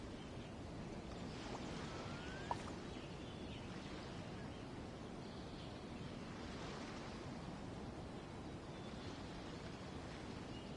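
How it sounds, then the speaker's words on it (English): Ocean waves lap at Liyue Harbor in Genshin Impact, a soft, steady wash of surf with faint wind and distant bird-like calls, continuous and fairly quiet throughout. "Oh, and the sound of the waves."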